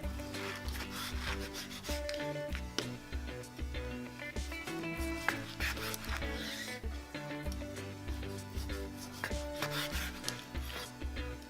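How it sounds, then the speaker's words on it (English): A knife slices pork belly into quarter-inch slices on a cutting board, a rhythmic series of close, regular cutting and board thumps with a steady pace. "We're gonna be cutting this in about 1/4 inch slices."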